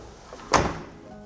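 A single short thud as a window sash slides shut, faint and close against a quiet room, with nothing else audible.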